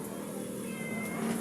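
A pet cat meows once or twice up close at feeding time, a clear short cry standing alone over steady room noise.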